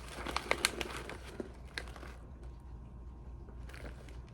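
Crinkly candy packaging is handled and torn open indoors, with quiet bursts of crackling and rustling early on, a pause, then a few faint crinkles.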